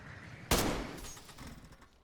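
A single sharp gunshot bursts out in the DayZ video game and decays over about a second, heard alone with faint background noise around it.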